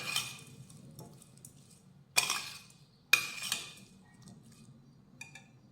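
A spoon mixing salted food in a metal pot for a vegetarian Marathi meal made without onion or garlic: soft scraping with a few sharp metallic clinks and knocks against the rim, close and fairly quiet, with no talk.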